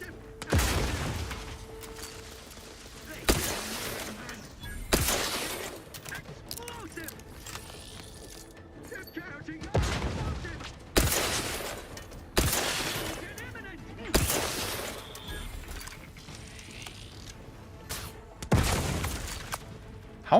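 Grenade explosions in The Outer Worlds 2, a series of about nine loud broadband blasts spaced every two to three seconds, each with a sharp onset and short decay, over low game ambience and occasional voices.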